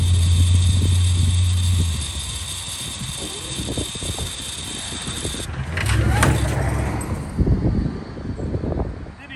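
A 1922 Fordson tractor engine is cranked over and tries to catch, giving rough mechanical churning and sputtering bursts that rise and fall, loud and close, amid outdoor wind noise.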